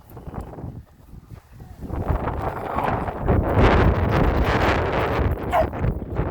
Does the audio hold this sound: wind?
yes